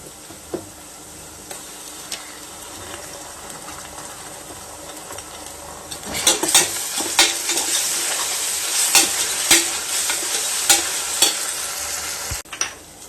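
Ginger garlic paste fries with onions and green chillies for mutton curry, a steady soft sizzle that swells louder halfway through as a spoon stirs and scrapes the pan with frequent clinks.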